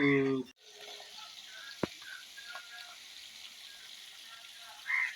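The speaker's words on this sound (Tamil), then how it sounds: "பாருங்க கருவாடு நல்லா ஆயிலில் நல்லா ஃப்ரை ஆகுது" Dried fish (vala karuvadu) frying in oil, giving a steady broadband sizzle that runs through the whole stretch with a few faint pops and a sharp click near the middle, after a brief voice at the start.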